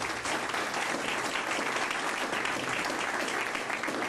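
Steady audience applause fills a hall at a Greenville, North Carolina mayoral debate, even and continuous but fairly quiet, with no voices over it.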